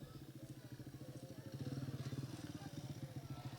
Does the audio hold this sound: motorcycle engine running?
yes